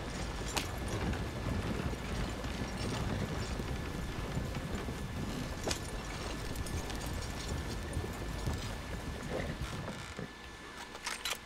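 A horse in Red Dead Redemption 2 trots along behind the player, its hooves a steady, soft clip-clop mixed with faint creaking. The sound is low in the mix and no one speaks over it.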